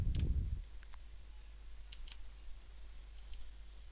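A computer mouse clicks several times while adjusting page setup in a Word document, faint isolated clicks over a quiet hum after a brief low thump at the start.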